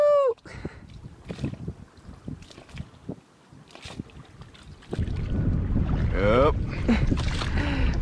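Wind buffets the microphone while a small boat is rowed, with splashing strokes and water rushing louder toward the end; a voice briefly answers.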